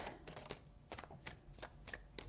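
Tarot cards are shuffled close up in quick, crisp riffling bursts, several separate shuffles, soft and quiet with no talking.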